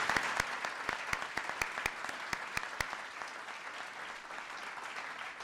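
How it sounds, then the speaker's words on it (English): An audience claps for Melody at a First Lady's Social Innovation Fund grant announcement, with sharp individual claps standing out near the front over a steady crowd ovation that thins toward the end. "let's please give a round of applause to Melody"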